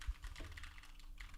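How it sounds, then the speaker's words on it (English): Computer keyboard typing picked up by a Shure SM7B microphone, a quick run of light, close clicks and taps in a quiet room with no one speaking. "here's the SM7B typing, and I'm typing"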